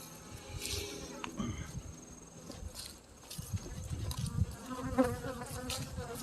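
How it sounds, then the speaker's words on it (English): Angry bees buzz continuously at close range during a hive inspection, a droning hum that swells and wavers, with some rustling and handling noise mixed in. "when you get some bees that are actively angry, their stings feel different"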